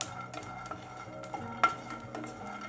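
Peanuts being stirred while they roast in a pan for thambittu, with repeated scraping and light rattling strokes and one sharper clink, close and fairly quiet, no voices.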